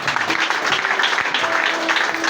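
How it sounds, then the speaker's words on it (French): A congregation at a prayer service applauds, a dense, continuous clatter of many hands clapping close by with faint voices mixed in. "Acclame Jésus pour cette"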